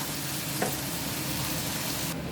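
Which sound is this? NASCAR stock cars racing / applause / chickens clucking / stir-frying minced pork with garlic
stir-frying minced pork with garlic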